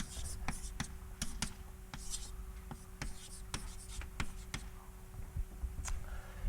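Marker or chalk writing an equation on a board during a mathematics lecture: irregular sharp taps and short scratchy strokes in quick bursts, fairly close, over a steady low room hum.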